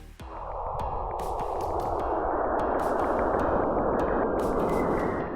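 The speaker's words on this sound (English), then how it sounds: "That's the sound of plasma waves moving between Saturn and its moon Enceladus." Plasma waves moving between Saturn and its moon Enceladus rendered as sound: a loud, continuous hissing whoosh that swells and sustains throughout, with scattered sharp clicks and pops over it.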